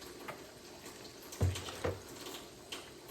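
Water poured into a cooking pot to make pasta, a soft trickling splash with a couple of brief louder sloshes, close and fairly quiet, no voices.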